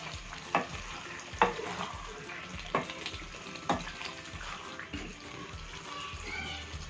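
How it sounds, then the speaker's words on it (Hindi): Turnip and meat curry stir-fries in a pan with a soft, steady sizzle, and a spoon scrapes and clinks against the pan several times, irregularly and close by, while someone talks faintly. "थोड़ा सा और पानी लेंगे, अच्छी तरह भून जाएगा पानी,"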